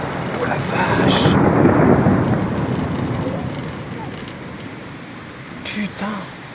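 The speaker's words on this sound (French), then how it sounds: "Ah oui, c'est orage fort direct," A strong thunderstorm over Le Mans rumbles with a long rolling thunderclap that swells and fades, steady rain underneath, and someone speaking briefly near the end.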